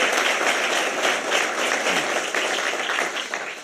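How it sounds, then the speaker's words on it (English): Keynote audience in a large hall giving a sustained round of applause for a CEO, dense clapping that holds steady before thinning slightly at the end. "If you can please give a round of applause to Alexander."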